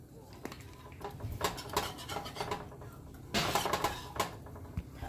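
Sour cream being stirred into gravy in a pan for beef stroganoff, heard as irregular scraping and clinking of a utensil against the pan, with bursts of louder rubbing and quiet gaps between strokes.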